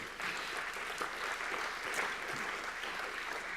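An audience claps at a recovery awards event, a dense, even round of applause from a large room that continues for several seconds at moderate level.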